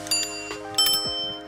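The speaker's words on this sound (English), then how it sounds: "I should have rung the bell." An orange electric scooter's handlebar bell rings twice in quick succession, bright metallic pings close by with a brief gap between them, and no talking.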